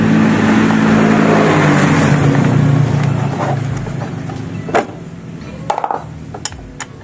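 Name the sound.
motorcycle engine idling with rattle from starter gear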